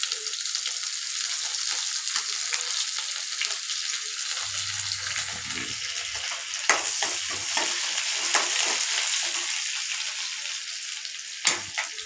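Curry leaves dropped into a pan of softened frying onions give a bright, hissing sizzle, with scraping stirs and a few sharp crackles over a steady fry.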